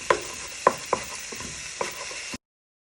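Lamb mince browns in a pan for a lamb pie while a utensil breaks it up, giving a few sharp scrapes and knocks over a soft, continuous sizzle.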